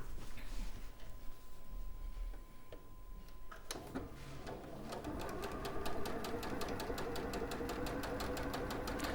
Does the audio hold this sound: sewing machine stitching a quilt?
yes